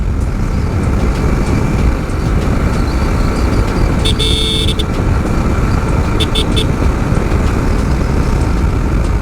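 A Yamaha R15 motorbike riding along an open road gives two short horn blasts, one longer toot then a quick double beep, over constant loud wind and road rumble.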